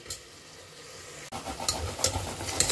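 Onions sauté in a pan for tomato bath, a faint sizzle that turns louder and more crackly halfway through, with a few stirring scrapes.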